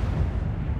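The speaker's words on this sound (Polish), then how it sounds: "Coś tu wybuchło." A low, rumbling explosion in the city-building game SimCity 5, heard as a dense, sustained boom that fills the whole brief moment with no voices.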